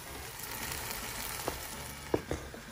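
Tomatoes fry with onions and bay leaves for Goan ox tripe, a steady close sizzle with a few sharp pops and clicks near the end.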